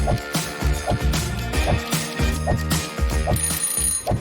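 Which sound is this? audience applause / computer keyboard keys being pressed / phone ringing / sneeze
phone ringing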